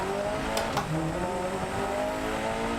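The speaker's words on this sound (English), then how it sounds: "Got a tire rubbing, it sounds like." Damaged rally car with a tire rubbing, racing a Spanish stage in DiRT Rally 2.0, a loud, steady engine drone with a faint rubbing scrape and two brief sharp clicks near the start.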